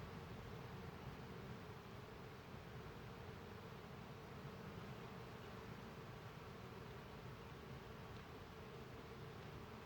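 Honeybees buzz steadily inside a deep hive box in a cold-climate permaculture setting, a dense, continuous drone with no pauses and no voices.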